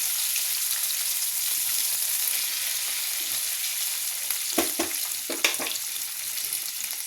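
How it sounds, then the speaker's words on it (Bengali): Onion, potato and nigella seeds fry in fish oil with a constant bright sizzle, broken near the end by a few sharp clinks and scrapes of stirring. No one speaks. "পেঁয়াজ, আলু আর কালো জিরে একসাথে ভাজবো।"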